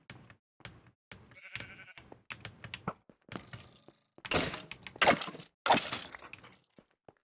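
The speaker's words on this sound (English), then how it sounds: "I did hear a sheep, though" Several short sheep bleats in the video game Minecraft, modpack Create: Arcane Engineering, among scattered clicks and cracking noises, with a few louder, harsher bursts toward the end.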